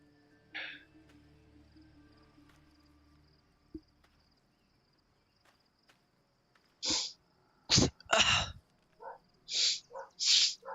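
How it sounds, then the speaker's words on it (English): A person sneezing in a short, fitful series of loud, close bursts near the end, following a long stretch of near silence with faint background hum. "Oh, come on, sneeze, damn it."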